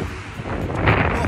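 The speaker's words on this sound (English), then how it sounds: "Bloody windy out here" Strong wind buffets the microphone on a big bridge in Budapest, a brief, steady, close rush of blustery noise.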